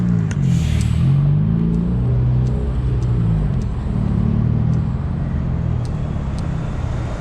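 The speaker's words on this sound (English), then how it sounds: "Now there seems to be almost normal traffic up 2nd Avenue" Cars rolling along 2nd Avenue in Seattle, a steady near rumble of engines and tyres with vehicles passing in turn and faint higher ticks and squeaks over the top.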